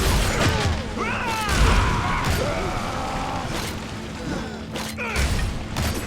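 Molotov cocktail fire and explosions in the brawler game Shank 2, with dull booms and crackling flames mixed with game effects and whooshes, someone talking loosely over the action.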